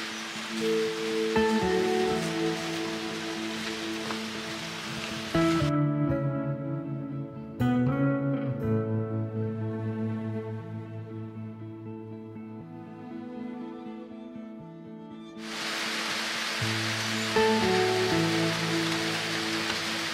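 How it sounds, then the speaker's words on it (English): Steady rain pours down on an off-grid farm, a continuous soft hiss that drops quieter midway before returning at full strength, heard alone without voices. "The rain has been going non-stop for the last 4 hours"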